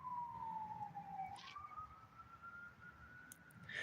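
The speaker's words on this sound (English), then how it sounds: "why would he turn the siren off" A police car siren wails in a slow rising and falling sweep, distant and faint in street traffic, with brief higher chirps near the end and no talking.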